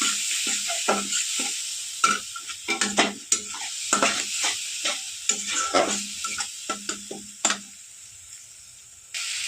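A spoon scrapes and stirs amadi river-fish curry with cumin in a frying pan, giving irregular knocks and scrapes over a constant hot sizzle, close up with no talking.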